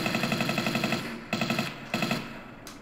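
Rapid bursts of automatic gunfire in Tomb Raider III aimed at swarming dragonflies, three separate runs of evenly spaced loud shots with brief gaps between them, and no talking.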